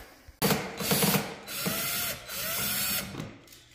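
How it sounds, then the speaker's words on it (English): A ratchet clicks rapidly in three bursts as bolts are undone on the old front splitter of a Corvette C8, close and loud with a mechanical, metallic ratcheting rhythm. "we'll just undo all the bolts that are connected to this old one"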